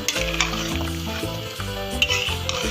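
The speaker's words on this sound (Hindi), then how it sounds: "इसे चमचे से आराम से हिलाएंगे" A spoon stirs through meat and tomatoes for chicken karahi in a hot pan, steady scraping and stirring over a continuous sizzle, close and fairly loud.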